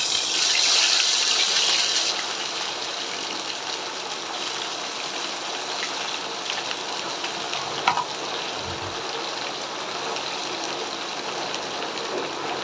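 Ground spice paste, added after whole chillies, cardamom, cloves, cinnamon and cumin, sizzles in hot oil: a loud hiss at first that settles into a steady, slightly softer frying crackle with light stirring, no talk.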